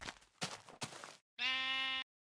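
A Minecraft sheep gives a few short bleats, first two or three rough, breathy calls and then one longer, clear wavering bleat, close and alone.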